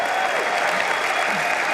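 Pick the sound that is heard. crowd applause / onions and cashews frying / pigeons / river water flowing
crowd applause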